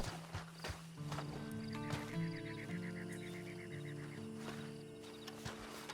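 Horse hooves clip-clop at a walk in the Red Dead Online game world, faint and rhythmic, with a whinny and goose-like fowl calls mixed in against a quiet outdoor ambience and a tonal musical drone.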